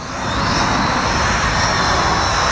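A small DJI Spark clone RC drone, the 19HW, hovers and flies close by with a steady, even whirring buzz from its propellers, loud and unbroken, with no voices.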